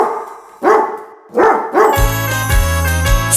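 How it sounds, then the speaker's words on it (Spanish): A dog barks three times in evenly spaced yips on a farm-animal sounds track for children, each one loud and close. A bright sustained musical tone then enters and holds to the end. "El perro hace wow wow."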